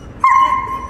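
A German shepherd on a leash lets out a single sharp, high, whining bark that rings on briefly and fades, close and loud.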